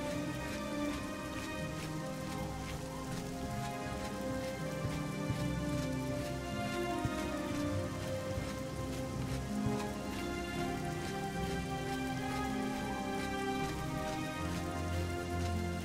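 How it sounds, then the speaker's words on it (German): Steady, dense rain falls throughout a scene in the video game The Elder Scrolls Oblivion, a constant patter on surfaces with no pauses and no voices. "Aber es ist auch verdammt häufig hier am Regnen,"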